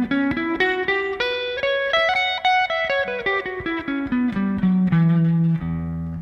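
Guitar runs through a Japanese scale (1, 2, flat 3, 5, 6) over a droning low E, clear plucked notes stepping up and back down in a steady melodic line, played alone.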